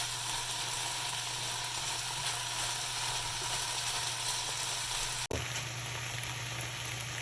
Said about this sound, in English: And saute them for a little bit, like 2-3 minutes.